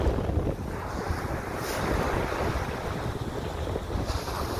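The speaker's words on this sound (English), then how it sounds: "I think Tucker might be afraid of the waves." Ocean waves wash and roar steadily at a beach with heavy wind buffeting the microphone, a continuous broad rush of surf close by.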